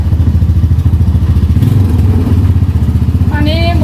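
A three-wheeled tuk-tuk taxi engine runs steadily while being driven, a loud, rough, throbbing putter close by, with a brief voice near the end.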